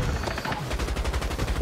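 Rapid automatic AK rifle fire in the video game XDefiant, a loud, steady string of closely spaced shots running the full length with no pauses.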